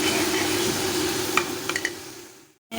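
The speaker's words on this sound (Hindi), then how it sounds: "तो अब ये हम इसको 15 मिनट तक भूनेंगे।" Masala fries in oil during a maghaz fry recipe, a steady loud sizzle with a few brief clinks of a stirring utensil before it cuts off abruptly near the end.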